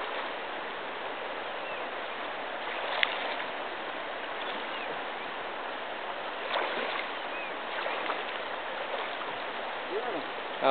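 Strong river current flowing over stones near a Mangyan village in Mamburao, Occidental Mindoro, a steady broad rush of water throughout with a few brief splashes and faint distant voices.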